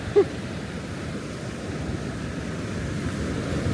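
Ocean surf along a quiet Bali shoreline, a steady broad wash of waves with wind rumbling in the microphone and a brief bump near the start.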